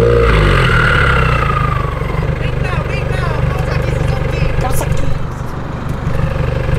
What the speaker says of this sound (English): Let's hear the startup, buddy.